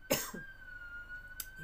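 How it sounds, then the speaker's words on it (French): A woman gives a single sharp cough, followed by a short rasping tail and a faint second catch in the throat, close and clear against a quiet room with a steady electrical hum. "voilà que je tousse"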